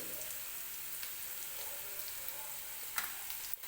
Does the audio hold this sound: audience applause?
no